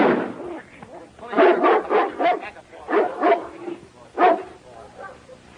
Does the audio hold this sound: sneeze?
no